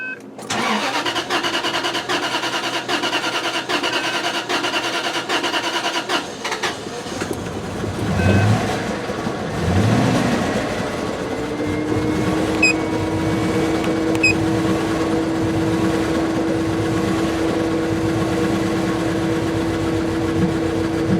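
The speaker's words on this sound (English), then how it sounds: "Oh, it's misfiring." A 2002 Bentley Arnage T engine cranks, catches and settles into a steady idle, heard close with a faint uneven roughness from a misfire.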